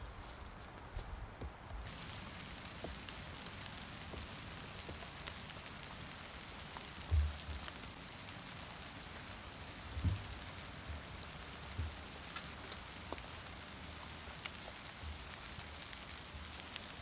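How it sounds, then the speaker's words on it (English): Light rain beginning to fall over an outdoor gravesite, a soft steady patter with a few faint thuds and footstep-like sounds, no talking. "It's starting to rain here."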